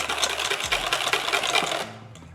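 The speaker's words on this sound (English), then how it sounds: "Whisk that in and then we'll taste it." A metal whisk beats lemon juice into hollandaise sauce in a bowl, a fast, steady run of close clattering taps that stops abruptly near the end.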